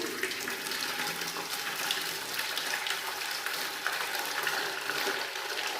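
Hot water pours steadily into a cooking pot, a constant, close hissing splash with no pauses and no voices.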